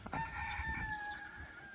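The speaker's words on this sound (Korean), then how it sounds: "여전히 닭들은 울고 있습니다." A rooster in a small garden crows once in a long drawn-out call, moderately close over quiet outdoor background.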